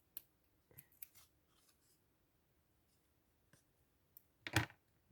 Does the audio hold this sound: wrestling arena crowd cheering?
no